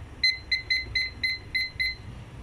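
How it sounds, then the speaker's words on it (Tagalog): A kitchen timer alarm sounds during steaming eggs, sounding out six or so short, evenly spaced double-pitched electronic beeps that ring clearly and close over a low background hum. "nag-alarm na yung timer ko"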